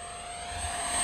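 An E-flite Viper V2 70mm electric ducted-fan RC jet flying overhead, a steady whining roar that grows slightly louder over about a second.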